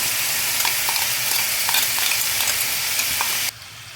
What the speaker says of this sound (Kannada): ಇದು ಮಿಕ್ಸಿ ಮಾಡಿ ಇಟ್ಕೊಂಡಿರೋಂಥ ಹಸಿಮೆಣ್ಸಿಕಾಯಿ ಪೇಸ್ಟು ಒಗ್ಗರಣೆಗೆ ಹಾಕೋಬೇಕು